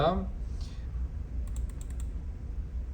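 Mouse clicks on a digital AIS station map come as a quick row of faint, light clicks after a short voice at the start.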